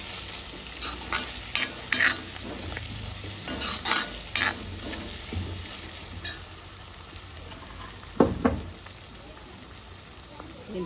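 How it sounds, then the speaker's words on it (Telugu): A spoon stirs boti curry with Guntur and Byadgi chili powder in a sizzling pan, with steady frying hiss and scattered scraping clinks against the metal, close up. "బాగా కలిదిప్పుకోవాలి"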